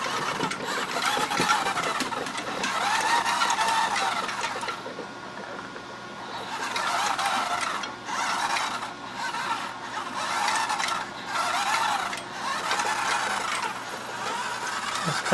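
The motorized trim wheel of a Boeing 737 simulator throttle spins erratically because of a server fault, giving a steady mechanical whirring and rattling that comes in repeated bursts at close range, with no talk over it.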